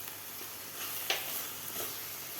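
A spoon stirs carrot halwa with khoa and cardamom powder in a pan. The thick mixture sizzles and scrapes in a low, steady hiss, with a few soft scraping strokes.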